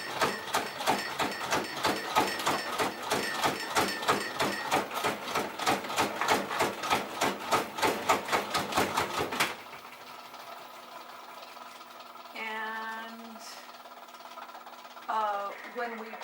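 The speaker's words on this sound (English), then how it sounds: "what Dan is doing at this time is placing about 10 of them in the salad spinner, and we're doing, as it were, a second spin" A salad spinner whirls harvested tuna, about ten at a time, on a second spin: a loud, steady, rhythmic mechanical whirring and clatter for roughly nine seconds that stops abruptly, leaving quiet room tone with a few faint tonal sounds.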